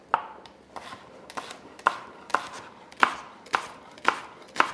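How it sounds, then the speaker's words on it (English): A knife finely slices leek steadily on a cutting board, about two crisp strikes per second, close and clear with no talking. "I'm going to finely slice it like I have these ones"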